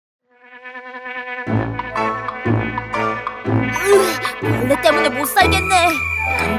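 A fly buzzes in a Korean children's song about flies and insects, over bright music with a child-like voice singing. Part of the buzzing is imitated vocally.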